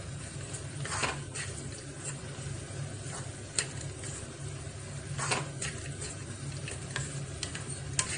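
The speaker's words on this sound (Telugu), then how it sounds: "ఇప్పుడు స్టవ్ ఆఫ్ చేసుకొని ముందుగా ఉడికించుకున్న రైస్ని, బాస్మతి రైస్ని వేసుకొని కలుపుకోవాలి" Boiled basmati rice being stirred into a fried tempering for a Vinayaka Chavithi prasadam, soft scraping and ticking stirs over a faint sizzle, quiet and close, no voices.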